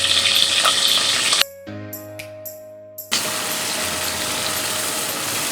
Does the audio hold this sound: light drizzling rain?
no